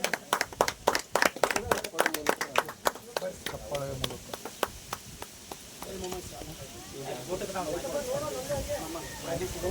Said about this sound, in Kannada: ಚಪ್ಪಾಳೆ ಚಪ್ಪಾಳೆ ಬ್ಯಾಕ್ಗ್ರೌಂಡ್ ಮ್ಯೂಸಿಕ್